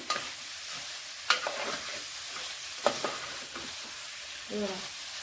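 Prawns sautéed in masala in a pan, a faint steady sizzle broken by a couple of sharp spoon knocks and scraping stirs, close and quiet.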